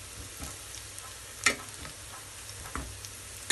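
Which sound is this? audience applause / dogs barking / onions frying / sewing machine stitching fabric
onions frying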